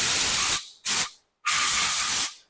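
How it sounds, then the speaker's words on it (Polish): Aerosol gun cleaner sprayed onto a dirty pistol from the shooting range in three close hissing bursts: a long one, a short one, then a long one, with pauses between them. "używamy naszego gun cleanera, czyli środka do czyszczenia o najwyższym ciśnieniu na rynku i mocnych składnikach"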